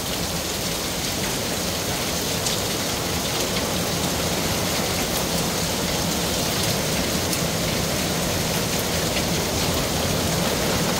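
Hail pelts down during a hailstorm in Gangseo-gu, Busan, near a car, a dense, loud, continuous clatter of hailstones with sharp individual impacts throughout and no voices.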